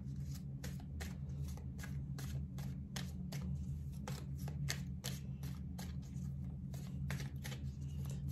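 Tarot cards being laid down one after another on a table, a steady run of crisp slaps and soft snaps repeating every fraction of a second over a constant low hum.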